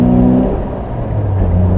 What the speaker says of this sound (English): There's that engine again coming on song.